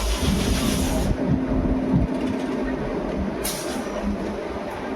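The 14087 Runicha Express runs on rails between Ringas Junction and Kuchaman City, giving a loud, steady rumble and rattle of moving train wagons with a few clanks, heard up close from on board.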